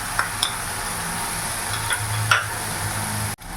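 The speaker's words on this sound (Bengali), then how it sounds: "ভালো করে নাড়াচাড়া করে মিশিয়ে নেব" Ginger-garlic-chili paste is stirred as it fries in a pan for Bengali-style tel potol, making a steady sizzle broken by a few light spoon clinks and scrapes, heard up close without speech.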